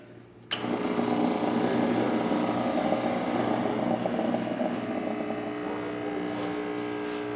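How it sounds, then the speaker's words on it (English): A serviced Rancilio Silvia espresso machine pulls a shot, its vibratory pump starting abruptly and buzzing loudly and steadily with a tonal hum, easing slightly toward the end. "Let's go ahead and test it and make an espresso shot on it."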